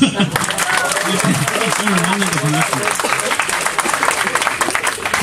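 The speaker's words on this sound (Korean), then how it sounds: "박수!" A lecture audience of students in Korea applauds steadily throughout, a dense patter of clapping, while someone speaks briefly over it near the start.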